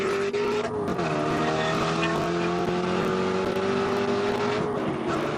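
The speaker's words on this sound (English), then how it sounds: "There you see John Wynn in the red, or Greg Nestor, excuse me, in the red Corvette heading up the hill" Red Corvette race car in the Spec Corvette Series climbing the hill at Sonoma Raceway, its engine droning loud and steady with rising and falling harmonic tones throughout, other cars faintly mixed in, with a commentator's voice talking over it.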